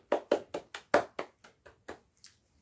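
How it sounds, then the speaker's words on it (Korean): A single person clapping for the KT Wiz baseball team, about ten sharp, close claps in an uneven rhythm that slows and softens toward the end, with no other sound around them. "KT 위즈 한번 박수 쳐줍시다."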